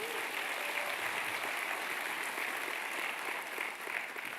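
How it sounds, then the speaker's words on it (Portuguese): A church congregation at a Sunday evening family service claps in praise, a continuous, fairly faint and even wash of many hands applauding that holds steady across the whole stretch. "Pode dar uma salva de palmas ao Senhor."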